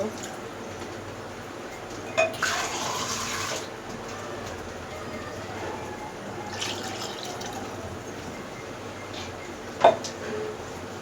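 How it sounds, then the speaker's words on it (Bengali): Broth ladled into a simmering taro and fish curry gives a soft pour and splash, followed by a second brief splash and a quiet background hiss, with a small clink near the end. "ভালো একটু করে ঝোল দিয়ে দিব।"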